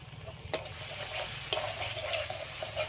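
Mustard and green chili paste with a little sugar fries in oil in a pan: soft continuous sizzle with a couple of sharp spatula scrapes, quiet and close, no speech.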